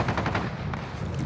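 Rapid automatic gunfire in a shooter video game, a close burst of quick repeated shots across the whole short moment.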